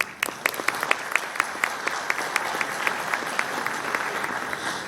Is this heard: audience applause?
yes